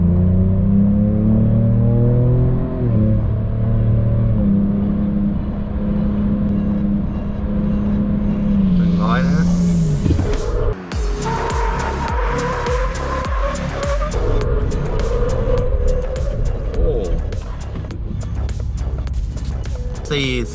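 A Ford Ranger Raptor next-gen pickup accelerates hard toward 100 km/h in a rising engine roar, then brakes hard with a broadband tire rush and skid, loud and close throughout.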